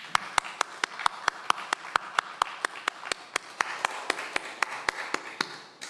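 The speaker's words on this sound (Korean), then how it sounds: "힘찬 박수로 영광 돌리겠습니다." A church congregation claps in steady unison during a Sunday worship service, with about two dozen sharp, evenly spaced claps forming a brisk rhythm throughout.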